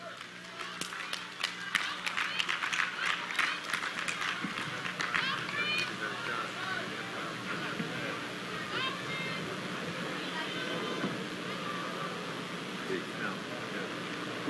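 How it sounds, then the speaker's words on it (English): A rally crowd at a reparations event claps for a speaker taking the podium, a dense burst of applause in the first few seconds that settles into a murmuring, noisy hall with scattered voices. "please put your hands together, representing the nation of Israel, Prince Israel. Give them a round of applause"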